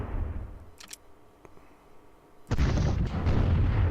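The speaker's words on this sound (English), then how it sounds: "let's keep blasting away these walls" Artillery fire blasting fortress walls in Imperialism II: a quiet stretch with a couple of sharp pops, then a loud, sudden explosion that rumbles on, followed by another heavy blast.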